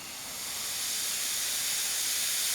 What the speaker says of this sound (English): Now you can hear the gas going in.